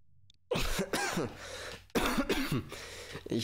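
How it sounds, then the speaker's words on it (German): Person coughing close to the microphone, two bursts of several harsh, raspy coughs separated by a short gap, with no speech. "ich huste heute viel rum"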